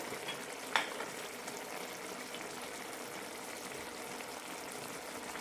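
A chickpea masala curry simmering in a pan gives a steady, faint bubbling sizzle with one brief clink early on and no voices.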